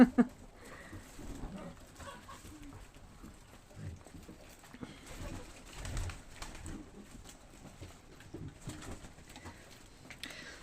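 Soft pigeon coos murmur low beneath a busy, muffled background with occasional rustling, the birds fairly close but never loud.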